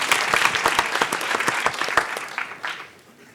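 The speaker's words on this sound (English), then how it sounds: "So please join me in giving a round of applause to Amy." Enthusiastic applause from an audience at an evening talk on peace negotiations, loud crisp clapping that gradually thins and fades after a few seconds.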